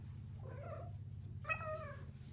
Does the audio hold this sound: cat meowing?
yes